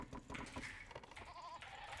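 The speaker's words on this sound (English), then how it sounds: "We'll pick up those sheep and maybe even pick up a deer or so." Sheep bleating in Age of Empires during a Lithuanian-civilisation match, short game bleats repeating over busy in-game clatter and background sounds, fairly steady throughout.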